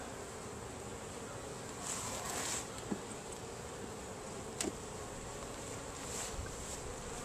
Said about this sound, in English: There's a good amount of bees in there.